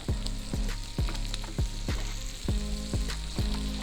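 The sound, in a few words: onions frying with sugar to caramelize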